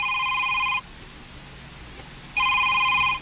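An incoming call rings on a telephone with two bursts of electronic bell tones, loud and close, separated by a short pause and heard alone without talk.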